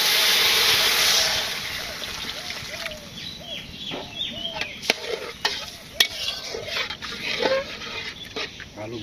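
Potatoes fry in a cooking pot in a village kitchen, giving a steady sizzle with a louder hiss at first and scattered stirring scrapes, while faint bird chirps sound in the background.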